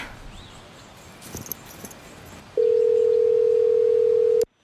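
A steady telephone dial tone sounds loud and alone for about two seconds after some faint background rustle, then cuts off abruptly.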